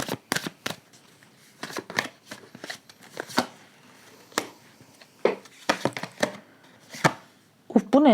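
Tarot cards being shuffled and drawn by hand: a run of quick, crisp card snaps and slaps in irregular bursts, close up, with a brief voice near the end.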